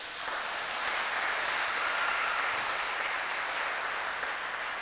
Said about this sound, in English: give your hands a round of applause